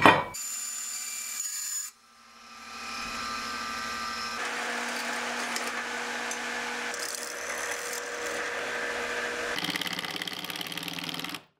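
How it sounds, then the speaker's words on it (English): A light bracket end slides inside an old IKEA track for DIY track lighting in a shipping container shop. A short knock comes first, then a close, steady rubbing scrape runs for about nine seconds, with no talk. "this top end just slides inside the track and it actually slides pretty darn smoothly"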